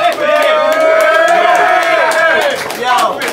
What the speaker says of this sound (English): P-Solja, make some noise one more time!